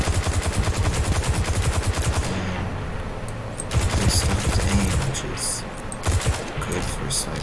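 Rapid automatic gunfire from the shooter game Destiny 2, fast repeated shots in long bursts broken by short gaps, with a voice talking underneath.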